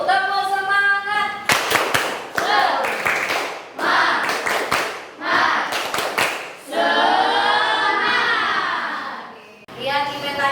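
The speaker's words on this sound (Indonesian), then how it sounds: "kita tepuk semangat dulu. Tepuk semangat." Primary school children in an Indonesian religious studies class clap in quick rhythmic bursts while chanting a call-and-response cheer with their teacher, loud and close.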